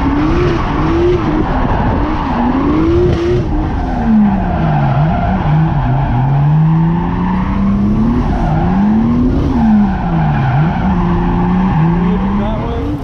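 A car drifts through tight corners on track, its tires squealing and warbling continuously as the engine note rises and falls, loud and sustained throughout.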